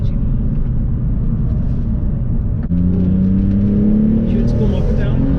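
A Porsche 911 engine, the cheapest example of the model, drones steadily from inside the car, then climbs in pitch as the revs rise without reaching redline, with rumbling road noise underneath.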